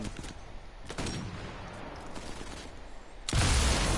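Gunfire in the Sniper Elite 4 video game, with several sharp broadband shots spread across the clip and a loud, sustained blast near the end, heard alone with no talk.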